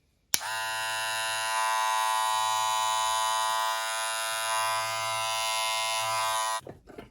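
A close Babyliss electric hair clipper switches on abruptly, buzzing steadily for several seconds at an even pitch, then cuts off; no voices.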